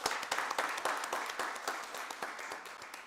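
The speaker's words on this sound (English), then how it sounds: "Give them another round of applause." A room full of people applauding at a county board of commissioners meeting, steady dense clapping that carries on for a few seconds at moderate distance.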